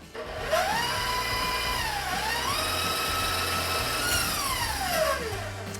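Electric mixer whirring through cookie dough for date and nut pinwheel cookies as an egg is worked in, a loud steady motor tone that dips and rises in pitch, with no talking.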